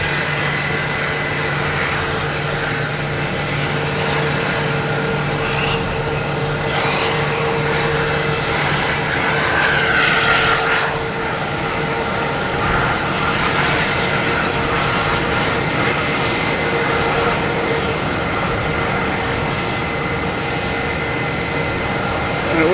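A Porter Dash 8 turboprop airliner at Boston Logan Airport, bound for Toronto, with a steady droning engine hum and propeller whine that holds for the whole stretch and swells slightly midway.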